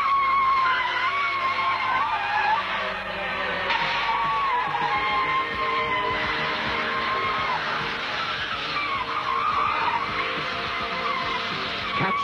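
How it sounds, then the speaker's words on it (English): A Proton Knight car in precision stunt driving, tyres skidding and squealing almost continuously in long sweeping bursts, loud and close, with a faint yell in the background. "Watch the lean, mean Proton Knight perform daredevil stunts you never thought possible."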